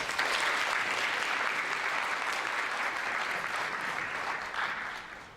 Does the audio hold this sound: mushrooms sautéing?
no